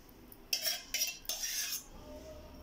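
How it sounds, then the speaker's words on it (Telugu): A metal spoon clinks and scrapes against a vessel while sago batter is mixed, three bright bursts of ringing clatter in quick succession, close and fairly loud, then a quiet tail with no talk. "స్పూన్ పనిచేసేటప్పుడు ఇలా రీసౌండ్ వస్తుంది"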